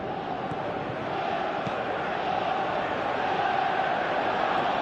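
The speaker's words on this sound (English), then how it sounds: "you can hear how the crowd are reacting to this too" A large stadium crowd in the video game PES 2018 roars in a steady, continuous wash of noise, a distant-sounding mass of voices that never lets up.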